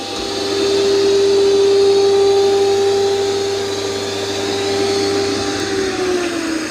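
A Roomba 505 robot vacuum and mop runs in mopping mode, giving off a steady, fairly loud motor drone with a high whine that holds throughout, close by and with no voices.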